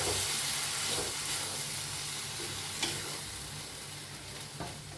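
Roasted ridge gourd is stirred into spiced masala in a pan, giving a steady bright sizzle with scraping stirs throughout, with no talking.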